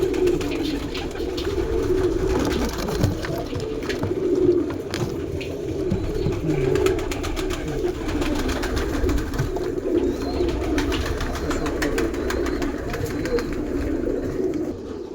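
Daku pigeons, a breeding pair, coo in low repeated throaty phrases close by, a steady murmuring rumble continuing throughout with no talk.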